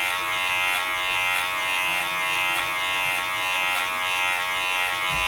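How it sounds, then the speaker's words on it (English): A Wahl Color Pro cordless hair clipper buzzes steadily and close while cutting hair for a self-done mid fade, a continuous bright electric hum with no talking. "I am using the Wahl Color Pro cordless"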